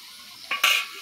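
Spices with turmeric powder and a little salt are stirred in a frying pan, giving a few quick metallic scrapes and a brief sizzle burst over a quiet background.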